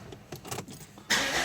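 An Opel Vectra C with a Z19DTH diesel engine turns over, a short burst of cranking and knocking that catches into a sudden steady running roar, close by.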